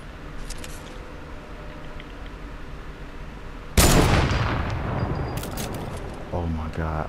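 Fortnite gunfire crashes in with a sudden loud blast followed by a decaying burst of shots and a short rapid volley near the end, with a voice talking at the start.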